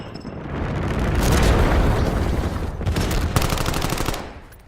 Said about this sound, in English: requesting strategic bomber strike